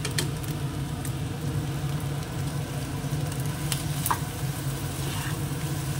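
Chow mein noodles with soy sauce hiss and sizzle steadily in a hot pan, a constant close frying crackle over a low background hum, with a few faint clinks from stirring.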